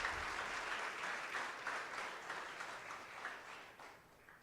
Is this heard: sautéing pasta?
no